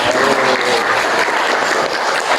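Schoolchildren in a classroom batik lesson clap together, a loud, close, continuous patter of many small hands that holds steady for a couple of seconds.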